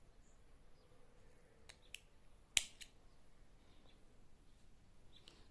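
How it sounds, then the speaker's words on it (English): A single crisp snip of scissors cutting crochet yarn, one brief sharp click in a quiet room with no talking. "then cut my yarn"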